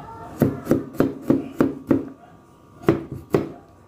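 Garlic being sliced with a knife on a cutting board, a series of crisp, close knocks in a steady rhythm, six quick cuts, a short pause, then three more, with no talking.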